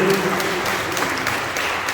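Applause from a church congregation during worship, a steady wash of clapping with voices mixed in.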